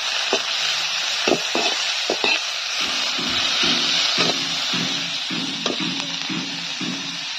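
Onions sizzling gently in a pan for an Assamese home-cooked dish, a steady broadband frying hiss punctuated by scattered clinks and soft stirring knocks from a utensil, with no talking.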